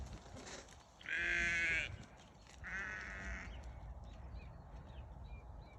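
A sheep on a beef and sheep farm bleats twice, loud and fairly close. The first call is long and wavering, the second shorter, with quiet farm background and low voices between the calls.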